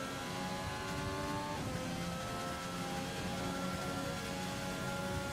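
Formula 1 cars race at the Russian Grand Prix in the F1 2020 video game, a continuous loud engine drone with shifting pitch that stays steady and dense throughout, with no talk.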